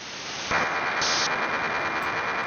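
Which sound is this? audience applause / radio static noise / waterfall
radio static noise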